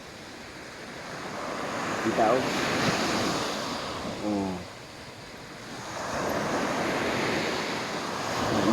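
Pacific Ocean surf rolls steadily onto the shore at low tide with gusting wind against the microphone, while a person speaks briefly in the middle.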